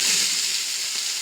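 Onion and kielbasa sizzle in a big pot over an outdoor fire, a steady bright hiss of frying that holds evenly for a moment with no talk.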